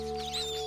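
Cartoon chicken clucking in a short, steady burst with bright, tonal harmonics, heard alone without talk.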